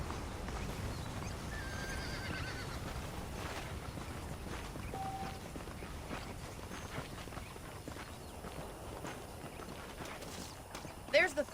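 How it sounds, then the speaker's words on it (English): Horses in the Red Dead Redemption video game clip-clop at a steady walking pace, with occasional faint whinnies mixed into quiet background ambience. "The horses are saddled up over here."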